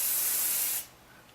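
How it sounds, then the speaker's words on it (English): Sebastian Shaper hairspray comes out in one close, strong aerosol burst that hisses steadily for under a second, then stops abruptly. "Okay, so now I use my Sebastian Shaper Hairspray."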